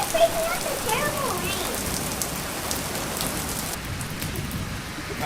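Heavy rain drums steadily on a Smittybilt Overlander XL Gen 2 rooftop tent, a dense, continuous close-up patter with no break throughout.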